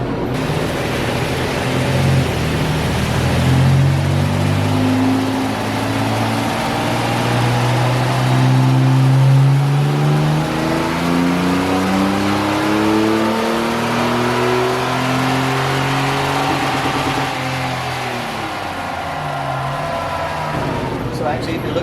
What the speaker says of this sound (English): Which you heard me hit the rev limiter.